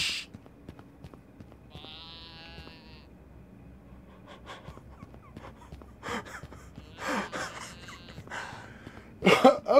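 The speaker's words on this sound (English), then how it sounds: "Do not walk too close to the goats." Goats bleating in the game The Count Lucanor: a wavering bleat early on, then several more gasping bleats and calls later over a quiet game background, fairly close, with no talking.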